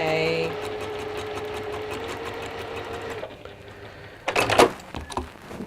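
A sewing machine stitches through quilt fabric with a fast, even mechanical whir for about three seconds, then stops. Softer handling sounds and brief clatter follow.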